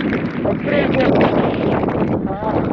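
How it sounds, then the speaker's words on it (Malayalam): Strong wind with rain blowing through a misty hillside near a waterfall among clouds, heard as loud, steady roaring gusts buffeting the microphone for the whole stretch, with faint voices under it. "നല്ല മഴ നല്ല മഴയുടെ കാറ്റ്"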